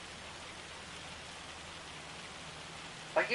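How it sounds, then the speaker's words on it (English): Steady hail or heavy rain in Farming Simulator 25, a dense, even patter of drops on surfaces continuing throughout at moderate level with no talk, ending in a brief louder burst. "Like it gets sunny and then it gets dark as crap. Like just go away, hail."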